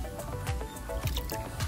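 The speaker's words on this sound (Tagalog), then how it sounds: "Tabo na lang ang gagamitin ko para mas control ko yung tubig." Water poured from a handheld dipper onto garden plants, heard as repeated soft splashing and squishy pours with brief drips, recurring every half second or so at close range.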